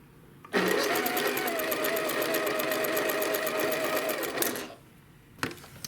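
A sewing machine pieces a quilt block from AccuQuilt Winding Ways fabric pieces, running in one steady rapid burst for about four seconds, then stopping, with a brief mechanical click afterward; close and clear with no talk.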